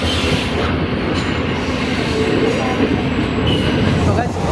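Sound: train departing Damdim railway station

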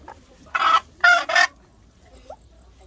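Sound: bird calling

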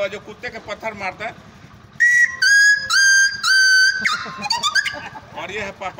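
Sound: voice imitating dog yelping after being hit by stone

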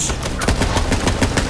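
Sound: gunfire from the video game Borderlands 3

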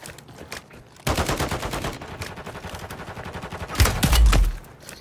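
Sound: sniper gunfire in a video game

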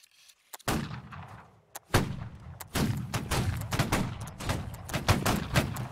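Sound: musket gunfire in Holdfast: Nations At War video game

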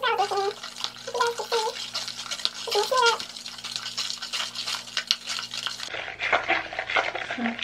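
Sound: stirring bentonite clay mask with castor oil

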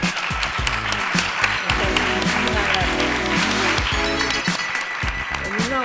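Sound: audience applauding at an award ceremony

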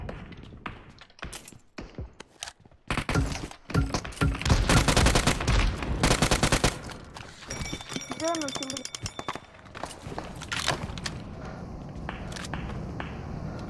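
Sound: gunfire in the video game PUBG Mobile

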